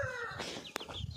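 Chicks cheeping on a farm, a few quick high chirps near the microphone alongside soft clucking from nearby chickens, with one sharp click in the middle.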